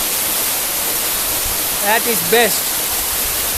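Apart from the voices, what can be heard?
Mana Waterfall rushing water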